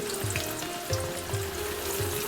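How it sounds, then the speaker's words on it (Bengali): Sliced onions for a chicken dish fry on a high flame, giving a steady, close sizzle with faint stirring scrapes and no talk. "পেঁয়াজটা হাই ফ্লেমে ভাজবেন।"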